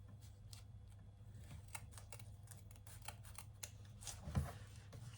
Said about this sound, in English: trimming down that little area of foam there on both sides